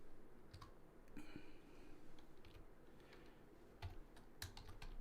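Keys clatter on a computer keyboard in a short run of close, crisp taps, with a couple of louder keystrokes near the end against a quiet room.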